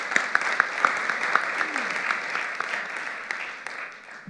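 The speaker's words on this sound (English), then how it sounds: "I'd like to give them all a round of applause." Applause from a conference audience, a short burst of clapping that fades over a few seconds, moderately distant, with faint voices underneath.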